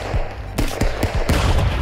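Sniper and gun shots ring out in the chaotic Stick Fight game, several sharp loud reports in quick succession, booming close and overlapping amid game noise.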